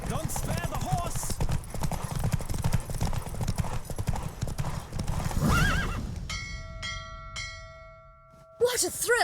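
A horse gallops at full pace in The Witcher 3, with rapid hoofbeats and rushing movement under dialogue. A whinny follows, and then chiming bell-like game sounds close the race.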